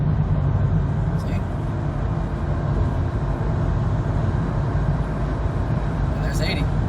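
A 1993 Toyota Previa DX van cruises on the freeway, heard from inside as a steady, moderately loud wash of engine drone and tyre and road rumble that holds without a break.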